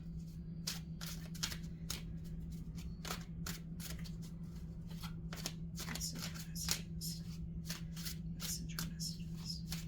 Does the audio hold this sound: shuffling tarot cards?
yes